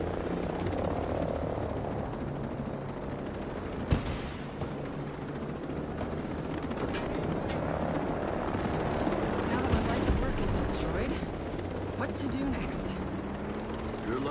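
A steady, loud rotor-and-engine drone of an aircraft fills the scene in the Ghost Recon Breakpoint video game, with a sharp bang or shot now and then; someone talks over it throughout.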